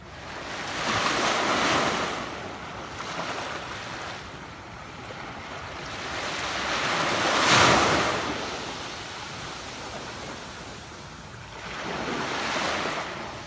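Ocean surf rolls in at Sindhu Beach in Sanur, Bali, steady wash swelling into three broad breaking waves spaced several seconds apart, with wind rumbling against the microphone and no talk.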